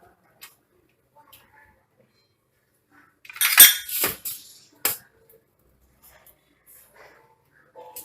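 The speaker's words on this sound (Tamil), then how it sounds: "ஒரு பேசனில் அதை அப்படியே கொட்டி உதுத்துக்கலாம்." Steamed wheat rava for sweet puttu tipped into a basin and broken up: a short burst of soft rustling and crumbling with a few light clinks against the basin, then quiet.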